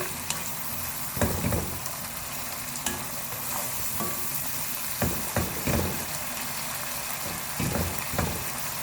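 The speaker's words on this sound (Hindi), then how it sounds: "मसाले को थोड़ा सा हम भून लेते हैं।" Masala spices fry and sizzle in a pan over a medium flame for an arvi and baingan sabzi, a steady close hiss broken by several scraping stirs of the spoon.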